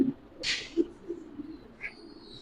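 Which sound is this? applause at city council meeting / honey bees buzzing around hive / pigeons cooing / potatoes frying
pigeons cooing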